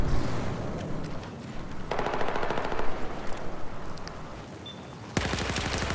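Automatic weapon fire from the video game Battlefield 4 rattles in sustained bursts, with a sharper, louder volley breaking in near the end; no voices.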